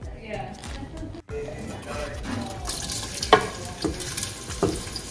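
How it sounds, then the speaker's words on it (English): Onions sizzle as they go into a hot pan for a goat curry and are stirred, a soft crackle with scraping and clinks of a utensil, with a voice talking nearby. "So I'm putting the onions in"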